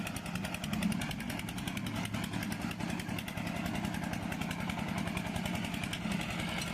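A small walk-behind mini power tiller cultivator engine runs steadily and loudly throughout, a continuous buzzing drone with no pauses and no talking.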